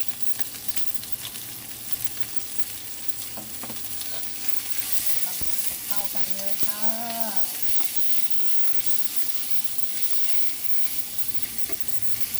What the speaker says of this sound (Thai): เมื่อกระเทียมเราได้ที่เราก็จะมาใส่หมูนะคะทุกคน